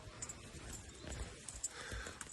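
A large mare's hooves clip-clop faintly over ground in a village in Osh region, a few soft irregular steps against quiet background.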